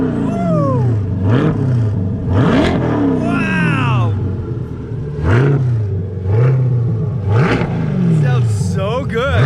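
An LT1 C8 Corvette fires up and revs hard several times, each sweep climbing and falling in quick bursts that fill the space, with a voice briefly exclaiming over it.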